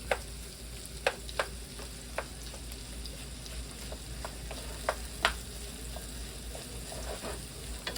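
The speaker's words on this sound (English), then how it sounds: "Just fry all this baby up." Chili ingredients sizzle and fry steadily in a pan, with a few sharp clicks and scrapes of stirring scattered over the continuous crackle, close and at moderate loudness.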